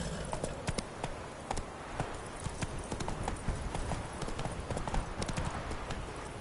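Roach the horse clip-clops loudly and close in a video game, a fast, regular run of hoofbeats that continues for the whole stretch with no one speaking.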